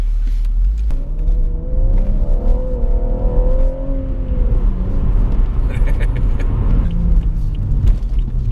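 BMW M135 car driving, its engine a steady loud rumble with a rising, shifting drone as it accelerates, heard from inside the cabin with a person talking over it.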